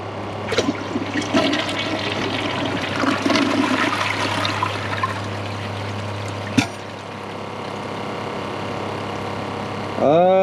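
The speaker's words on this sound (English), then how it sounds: "We're gonna try it again on the second flush." A Kohler Cimarron toilet flushes with a loud rush and gurgle of water that drains down into trickling and tank refilling, with brief voices and a sharp knock partway through.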